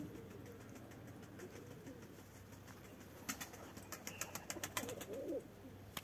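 Pigeons cooing outdoors during a flock release, soft low calls and fluttering faint in a quiet setting, with a few sharper wingbeat-like bursts in the second half.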